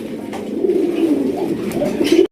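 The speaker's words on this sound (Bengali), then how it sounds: "এখানে রয়েছে একজোড়া ব্ল্যাক কালারের কালো কুচকুচে একজোড়া ডেনিশ কবুতর" A pair of black Danish pigeons coo close by, a loud, continuous rolling coo lasting a couple of seconds.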